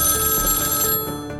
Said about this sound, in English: Finally, the phone rang,